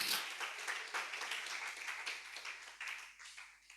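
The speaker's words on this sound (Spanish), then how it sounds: "Denle un aplauso al Señor Jesús." Congregation in a church applauding: a soft, fairly distant patter of many hands clapping, uneven and faint throughout, with a sharp sound at the very end.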